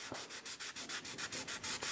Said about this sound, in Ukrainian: Взяв таку дрібненьку наждачку.